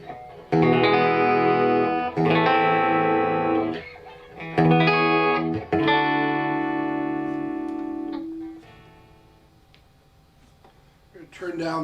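Bright, ringing chords strummed loudly on a Gretsch Players Edition Falcon hollow-body electric guitar and left to sustain, several in turn, before fading to quiet.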